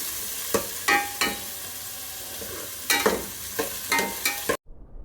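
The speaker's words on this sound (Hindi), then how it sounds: "एक बड़े से बर्तन में डालना है ऑयल, उसको हल्का सा करना है गरम, और उसमें डालने हैं अपने सारे वेजीज़" Vegetables sizzling in lightly heated oil in a large pot for pasta, a steady crackling hiss broken by several sharp clinks and scrapes of stirring, ending abruptly.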